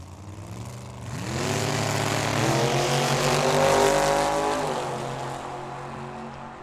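Pinto and Mustang drag racing side by side at Tucson Dragway, two engines roaring together with rising, overlapping harmonics that build to a loud sustained wail and then ease off as the cars pull away.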